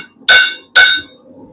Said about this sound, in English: I'm going to put this over the anvil in the right orientation on the horn, and I'm just going to start working it.